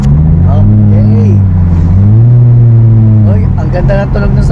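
A car engine drones loud and close from inside the cabin, its pitch rising and falling with a steady revving sweep while people talk over it.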